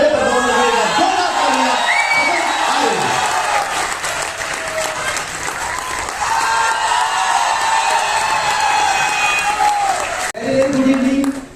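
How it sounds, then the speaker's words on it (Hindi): A large audience at a comedy show applauds loudly and cheers, with whoops and shouts over continuous dense clapping that stays full throughout before a brief break near the end. "ये जो आपने जोरदार तालियां बजाई इसके लिए आपका बहुत बहुत शुक्रिया।"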